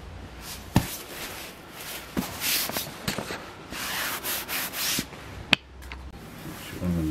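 Rustling and scraping of a Snugpak bivvi bag's fabric as someone wriggles and climbs out, with close, uneven bursts of rubbing, swishing and a few sharp thumps and brushes.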